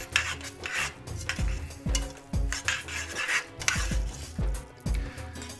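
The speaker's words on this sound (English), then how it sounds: "with this we will add the golden raisin and the roasted cashews. Mix it together." Golden raisins and roasted cashews stirred into sweet rice pongal make a close, steady scraping and rubbing of a spoon against the pot, with regular soft strokes and faint clinks throughout.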